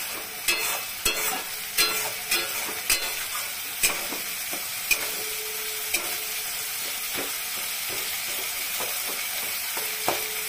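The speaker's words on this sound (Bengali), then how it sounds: "মশলাটা ভাজা হয়ে গেছে, মশলা দিয়ে পুরো তেল ছেড়ে দিয়ে" Steady frying sizzle with repeated knocks and scrapes of a spoon stirring a spice paste in oil, close and fairly even throughout.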